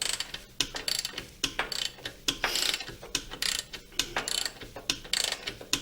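Rhythmic clicking of a ratchet wrench working loose a stiff rear shock absorber locking nut on a Mercedes E350, a quick series of close, fairly soft pawl clicks in short bursts, with no talking.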